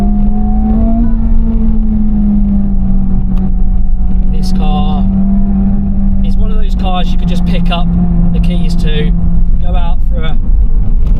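A Honda Civic Type R FL5 hot hatch driven hard on a B-road, its engine droning loud and constant with a slowly shifting pitch, while someone talks intermittently over the noise.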